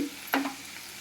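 Borbati beans frying in a pan, a quiet sizzle with one brief scrape or stir near the start, heard alone for about a second.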